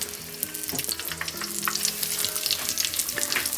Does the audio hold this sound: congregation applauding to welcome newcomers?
no